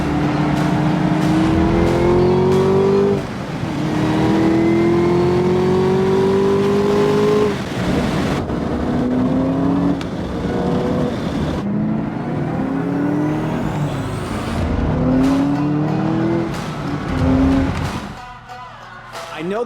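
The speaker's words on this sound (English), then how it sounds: "We're actually gonna start today's video off with a quick drive in the ZL1." A Chevrolet Camaro ZL1 on a closed private course in North Texas revs hard through rising gear pulls with loud, close engine roar, brief shift dips and tire noise across the run.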